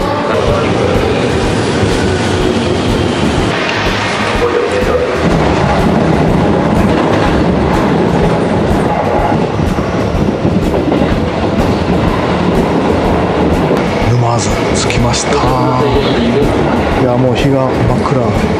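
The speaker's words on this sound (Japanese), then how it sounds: "まもなく沼津行きの電車が来るということでラッキー" A train bound for Numazu rumbles and clatters into a Japanese railway station, wheels and carriages rolling steadily, with people talking throughout and a busy platform ambience.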